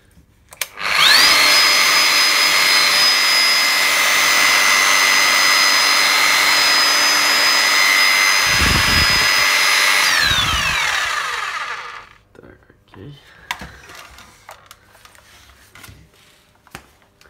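A Bosch power tool runs at its lowest speed setting, spinning up abruptly and holding a steady, loud whirring whine for about ten seconds before winding down, followed by faint clatter and handling noises.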